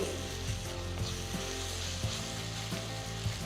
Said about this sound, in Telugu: ఐదు నిమిషాల పాటు ఉల్లిపాయలు బాగా కలిపి గోల్డెన్ బ్రౌన్ రంగులోకి వచ్చే వరకు వేయించాలి